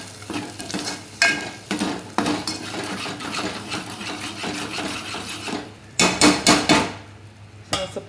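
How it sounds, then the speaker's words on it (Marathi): Ground masala paste for chole being sautéed in a pan, with a soft sizzle under repeated scraping strokes and metallic clinks of a spatula, close and fairly loud, and a brisk burst of rapid knocks near the end. "आता हे चांगलं परतून घेऊ."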